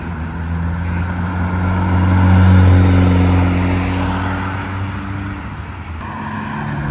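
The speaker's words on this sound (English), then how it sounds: "We've got the Evo 9 GT wagon leaving now." A Mitsubishi Evo 9 GT wagon pulls away from a Japanese car meet in Reading, its engine note swelling as it nears, peaking mid-way, then easing off into the distance.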